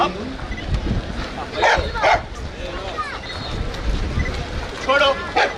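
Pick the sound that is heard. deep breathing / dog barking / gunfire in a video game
dog barking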